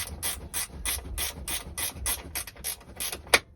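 A ratchet socket wrench clicks in a steady run of about a dozen even strokes at close range while working on an old cabover truck in its cab, ending with a sharper final click.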